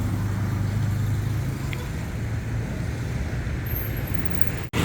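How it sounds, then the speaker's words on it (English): Light daytime traffic on Soi 39 in Bangkok: a steady low roadway rumble of passing cars, moderately near and continuous, with no voices. "There's actually very light traffic for Soi 39."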